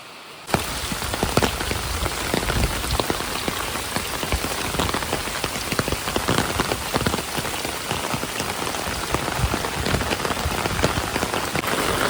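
Heavy rain pours steadily onto a surface, a dense, continuous hiss with scattered louder drops, starting abruptly and holding for the whole stretch without voices.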